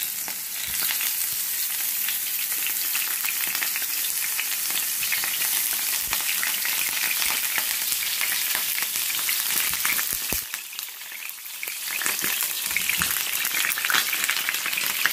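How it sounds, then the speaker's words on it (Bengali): Sliced eggplant (brinjal) frying in a pan for a tomato-eggplant bharta gives a loud, continuous crackling sizzle throughout, briefly easing then returning strongly. "তো আমি এই যে প্যানের উপরে বেগুনটা দিয়ে দিচ্ছি।"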